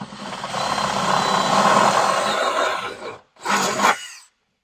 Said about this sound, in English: drill a 1/4 inch hole right through the bedside here